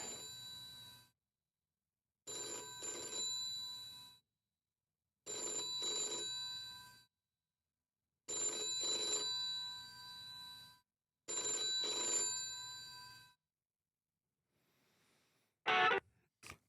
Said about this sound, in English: What, the phone ringing?